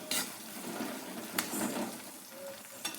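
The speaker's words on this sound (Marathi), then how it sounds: "कांदा छान असा परतत आला की त्यामध्ये आपण कट केलेली मिरची घालून घेऊयात" Onion and chopped green chili sizzle and fry in hot oil, with a steady crackling hiss, soft stirring scrapes and a few sharp clinks of a utensil against the pan.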